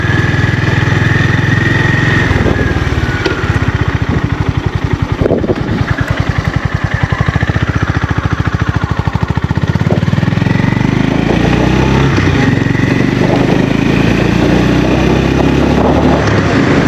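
A Honda GB350S single-cylinder motorcycle engine runs steadily up close, its low thumping pulse continuous throughout, with a rougher, choppier stretch midway.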